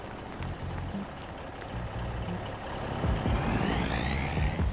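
Truck engine idling steadily in Farming Simulator 25, fitted with a tag axle, a continuous low rumble with a faint rising whine toward the end and no talk.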